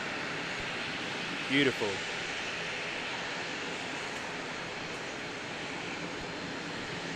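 Small Sounds Air passenger plane at Christchurch Airport, New Zealand, at sunset, heard as a steady, distant broadband engine roar that fills the scene, with a brief voice near the start.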